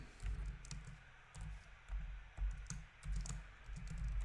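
Java code being typed on a computer keyboard, a quiet run of irregular key clicks in short bursts with brief pauses between them, close by and with no talking.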